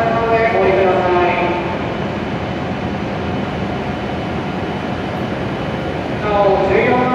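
A JR W7 series Hokuriku Shinkansen Hakutaka train arrives at Kanazawa station, with a loud steady rolling rush and whine near the platform while a recorded announcement plays over it at the start and end.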